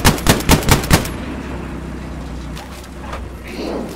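Gunfire in the World War II shooter Hell Let Loose opens with a loud burst of about six rapid shots, then fades into a low rumbling engine-like ambience.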